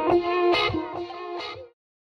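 Two distorted electric guitar parts layered together, one dry and one with delay, for a thicker, fuller riff of repeated struck chords that fades out into silence.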